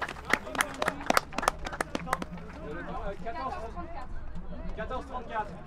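Crowd applause at a quidditch match in France, a burst of sharp claps over the first two seconds that fades into a general murmur of voices and babble.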